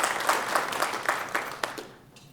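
Crowd applauding at an outdoor Memorial Day ceremony, a moderate round of clapping at some distance that thins out and fades near the end.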